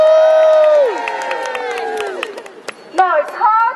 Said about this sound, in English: Let's give them a cheer.